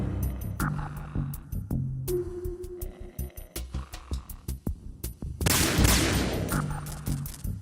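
Gunfire in Metal Gear Solid 2 on PS2, a series of sharp rapid game shots and clicks in short bursts, ending in a louder, sustained burst of noise.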